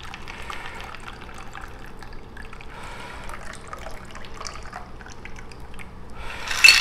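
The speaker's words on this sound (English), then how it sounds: "Pour the drink in." A cocktail is poured from a French press into a cup, a faint, soft trickle of liquid running for several seconds before a brighter, louder splash near the end.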